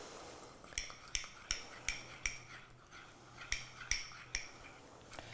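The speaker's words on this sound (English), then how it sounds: "I've got some tahini and I'm going to mix that with the lemon juice." Tahini being mixed with lemon juice in a bowl, a quiet run of regular clinks and taps as a utensil strikes the bowl, two short sequences of strokes with a brief pause between.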